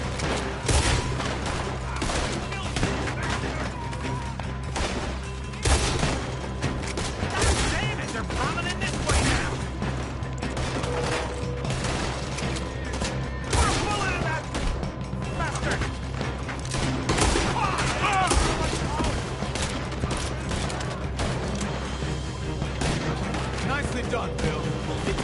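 Gunfire fills a shootout in Red Dead Redemption 2, with frequent rifle and pistol shots cracking at varying distances over a continuous rumble of game sound, voices talking intermittently underneath.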